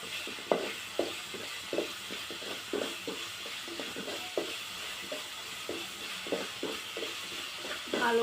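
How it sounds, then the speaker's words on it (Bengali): Onions stirred in a frying pan, a string of soft scraping, shuffling strokes at an irregular rhythm over a steady low sizzle, close and fairly quiet, with no talk. "ভালো করে নেড়ে দিচ্ছি"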